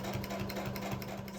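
A sewing machine runs steadily while stitching and back-stitching a quilt, with a close, rapid mechanical whir and rhythmic needle clatter throughout the brief moment.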